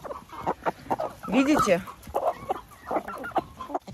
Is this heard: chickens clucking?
yes